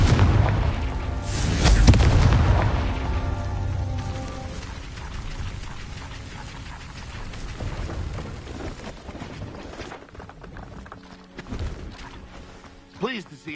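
A fiery spell blast goes off in the Hogwarts Legacy video game, a loud booming burst near the start that rolls into crackling, rumbling debris and fades into softer game sounds with a brief whoosh at the end.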